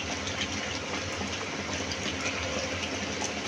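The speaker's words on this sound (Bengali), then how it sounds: "এখন কেওড়া জল দেওয়া হলো" Kewra water poured into a cooking roast, heard as a continuous rushing liquid pour and bubbling wash that stays steady and moderately loud for its short length.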